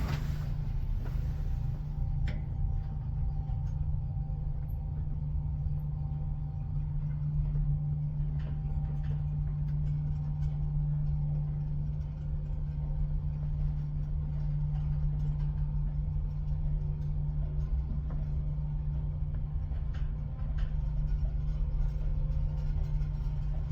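A 1965 ASEA-Graham traction elevator in Tranås, Sweden, hums steadily throughout a ride, a constant low drone with faint clicks and rattles above it.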